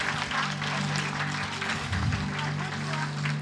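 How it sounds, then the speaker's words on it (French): Audience applause for children at a Christmas show by church clubs, a steady wash of clapping with a low hum underneath, moderately loud throughout. "on peut encore applaudir les enfants"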